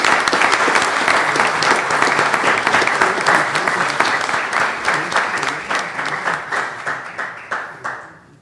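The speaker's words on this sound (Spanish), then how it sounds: "Yo pido un aplauso," Audience applause at a Spanish-language conference on molecular genealogy, steady and full for several seconds before thinning into scattered individual claps as it fades out.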